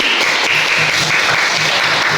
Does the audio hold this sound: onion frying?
no